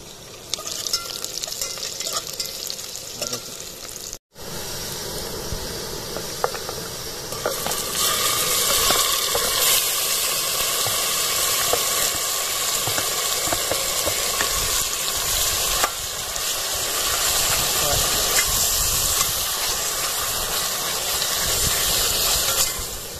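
Onions and curry leaves fry in hot oil for a chicken curry with curd, a steady loud sizzle and hiss that swells after a brief stir and continues alone without speech.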